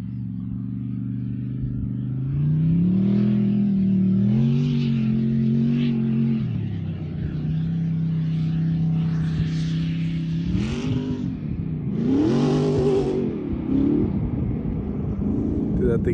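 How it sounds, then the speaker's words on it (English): A Bug sandrail's engine revs hard out among the hills, rising and falling in loud droning surges with a rumbling echo rolling back off the slopes, and someone speaks briefly over it. "I think it echoes nasty up in those hills. Sounds like a freaking fighter jet back there."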